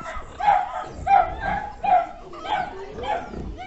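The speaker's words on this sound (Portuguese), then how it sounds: "tô com dó dos cachorrinhos" Dogs on a rural farm give several short yips and whimpering barks in quick bursts, fairly close and loud, with faint voices under them.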